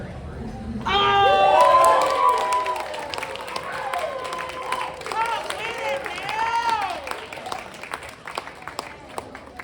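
Audience at a poetry party in LA applauds and cheers for a poet, a loud burst of clapping with whoops that swells near the start and then continues steadily, with a voice calling out over it.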